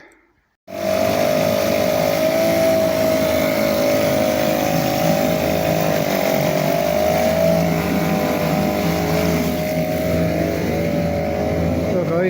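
A Suzuki 2.4 hp two-stroke outboard motor kicks into life after a brief quiet and then runs steadily, a loud, close, buzzing drone with a wavering pitch.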